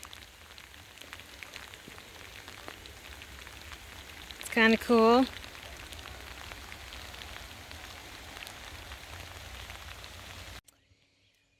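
Steady rain falls at a lake boat launch, a constant close hiss throughout, with a brief voice speaking over it near the middle before the sound cuts off.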